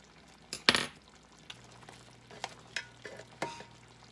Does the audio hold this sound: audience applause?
no